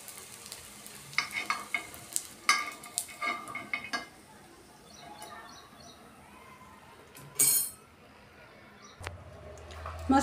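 Potato koftas are lifted out of frying oil with the gas turned off, bringing a cluster of clinks and scrapes of a utensil against the pan over a faint sizzle, then a quiet stretch, one sharp scrape and a low hum.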